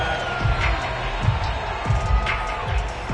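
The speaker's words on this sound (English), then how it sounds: "Plenty of shouts from this crowd as they watch the replay." Stadium crowd in the football video game Madden 22 keeps up a steady roar of shouts and cheers, with scattered louder bursts throughout and no talking over it.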